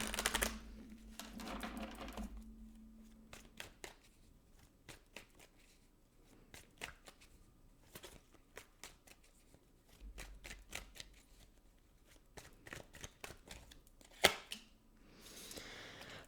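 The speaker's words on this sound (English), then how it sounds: "give me one card, and I'm also going to pull an oracle card as well" Oracle cards being shuffled by hand: a long series of soft, papery riffles and taps in irregular bursts, close by, with a few sharper snaps and brief quiet spells.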